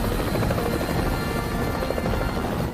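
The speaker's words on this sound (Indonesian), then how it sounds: "Namun Mas Rani tidak setuju, kemudian ia pergi dengan beberapa tentara menggunakan helikopter untuk mencari dan membunuh Indominus Rex yang berandalan itu." A helicopter flies with a steady, close rotor chop and engine whine that holds constant throughout, alone with no talk over it.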